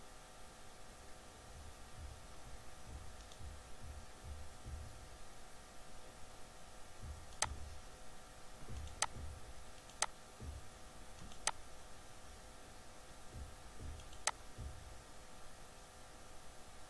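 About five sharp, faint computer mouse clicks on a web page, spaced a second or more apart over a steady low hum and hiss.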